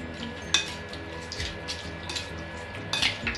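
Beef in a marinade with bay leaf, star anise and brown sugar stirred in a bowl, with soft scraping clinks of a spoon and a couple of sharper utensil knocks, close and fairly quiet with no talking.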